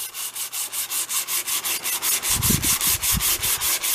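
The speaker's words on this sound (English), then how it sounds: "Hand sanding" A hatchet handle is hand sanded with 150 grit sandpaper in steady back-and-forth strokes, a close, rhythmic rasping about four or five passes per second, with a low wooden thump partway through.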